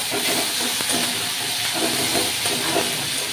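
Ginger paste sizzles in a hot pan with fried onions and taro stolons, a loud steady hiss close by without pause.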